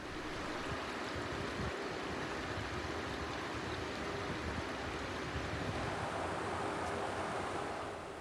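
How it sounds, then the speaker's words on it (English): River water in the Örekilsälven flows over rocks and pebbles, a steady broadband rush heard continuously and alone, fairly faint and even throughout. "The perfect water flow with good rocks"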